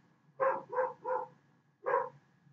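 A pet dog barking indoors, three quick barks in a row, a pause, then one more bark, fairly clear and unaccompanied.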